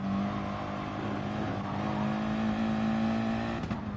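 Audi and McLaren race cars driving on a track in a racing game, a steady, loud engine drone with a sustained tone and a brief rev near the end.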